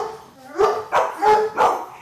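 Guide dogs in training bark in a short burst of four quick, loud, close barks in a row, with a whimpering whine leading into them.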